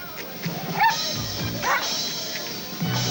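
Dogs bark and yip in quick, sharp bursts, several yelps spread across a short noisy stretch, with speech faintly in the background.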